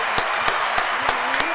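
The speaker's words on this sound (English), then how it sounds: "Clap it up, clap it up, clap it up." Audience applause greets a guest walking onto a stage, with a handful of sharp, distinct claps popping out over a steady, close wash of clapping.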